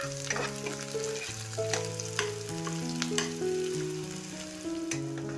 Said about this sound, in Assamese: গৰম হৈ গ'ল। এতিয়া মই পিঁয়াজ দি দিছোঁ।